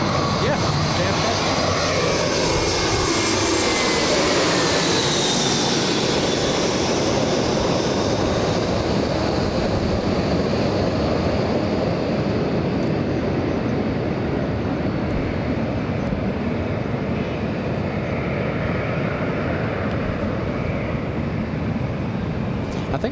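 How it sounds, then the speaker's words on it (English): JetBlue Airbus A321 arriving from JFK to land at LAX in a crosswind, a loud sustained jet engine roar with a whining pass early on, steady rumble continuing, with people talking over it. "Next one to arrive is an A321 JetBlue."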